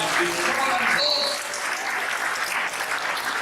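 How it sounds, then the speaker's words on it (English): A church congregation clapping hands at a Sunday service, dense sustained applause from a crowd filling the room, with voices calling out over it. "Come on, clap your hands in the name of Jesus."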